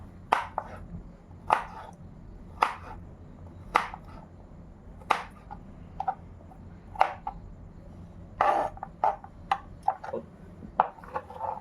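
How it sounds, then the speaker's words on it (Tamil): Watermelon rind is chopped into small pieces with a knife on a board: a series of crisp, sharp chops in an uneven rhythm, some in quick clusters, with no talking. "ஃபுல்லாக பொடி பொடியாக நம்ம கட் பண்ணிக்கிட்டோம்."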